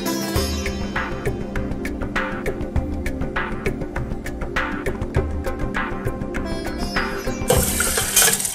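Water runs steadily from a tap into a kitchen vessel for dosa batter, a continuous close splashing trickle with small rhythmic surges and no voices.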